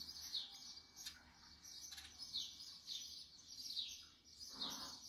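Birds chirp repeatedly in short high bursts over a quiet outdoor background in Gozo, with a few calls overlapping at moderate distance.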